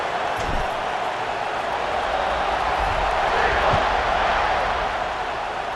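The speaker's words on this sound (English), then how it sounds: "this crowd is buzzing after that last score" Stadium crowd in the video game College Football 26 keeps up a steady, dense roar throughout, a broad wash of buzzing noise with a few faint thumps beneath.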